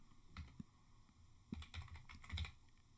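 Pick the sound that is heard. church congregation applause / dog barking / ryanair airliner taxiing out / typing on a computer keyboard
typing on a computer keyboard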